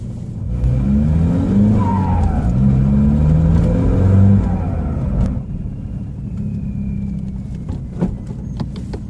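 An Audi A3 with a worn clutch drives and accelerates, its engine rumbling loudly and revving up through a gear before easing off into a steadier, quieter drone.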